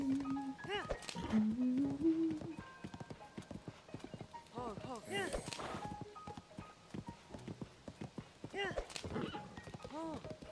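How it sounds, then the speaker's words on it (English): Horse hooves clip-clopping in Zelda: Tears of the Kingdom, a steady rhythmic trot mixed with game music and a brief whinny, with a voice talking over much of it. "I always soothe my horse after spurring"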